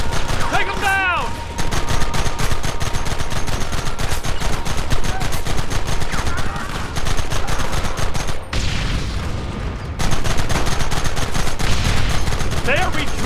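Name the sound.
gunfire in the video game Red Dead Redemption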